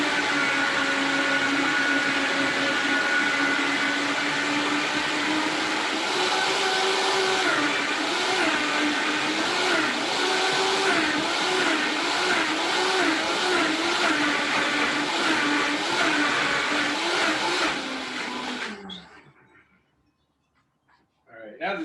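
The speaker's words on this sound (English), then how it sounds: "I'm gonna blend this really quick on high." A kitchen blender runs on high blending cheese sauce, a loud steady whirring roar lasting about eighteen seconds before cutting off abruptly into near silence.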